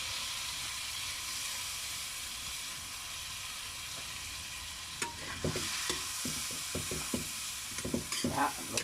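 Alamang shrimp paste cooking in a pan, with a quiet low hiss that turns after a few seconds into repeated stirring scrapes and light sizzling; no voices.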